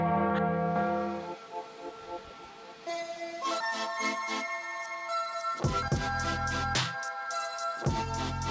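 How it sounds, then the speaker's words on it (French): Church bells swing in a full peal, with clanging metallic strikes that overlap and ring on in long resonant tones. Bright, dense clusters of tolls build and then fade between swings. "la volée de mes cloches"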